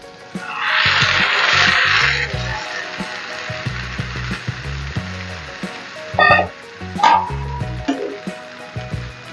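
Cooked horse gram tipped into a pan of sautéed onions: a loud burst of sizzling and hissing as it goes in, then a lower frying crackle with scraping and stirring knocks, under a steady background hum.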